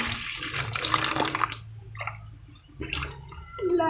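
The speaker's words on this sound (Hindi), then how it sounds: "अब मैं इस पानी खोल दूँगी" Running tap water for washing poppy seeds in a kitchen, a soft splashing stream with dripping and gurgling that fades briefly midway before picking up again, no talking.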